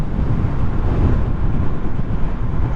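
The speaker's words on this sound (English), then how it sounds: "it's quite windy today" Wind buffets the microphone in a loud, constant low rumble while riding a Honda CB125F motorcycle, steady throughout with no other distinct sounds.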